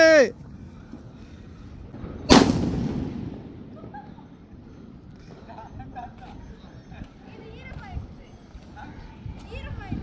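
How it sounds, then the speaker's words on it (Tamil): A single loud, sharp firecracker bang goes off early on during Diwali celebrations, its rough crackle fading over a second, with scattered background noise and faint voices around it. "என்ன அக்ஷயா வெடிகுண்டு வெடிக்கிற அளவுக்கு அப்கிரேட் ஆயிட்ட?"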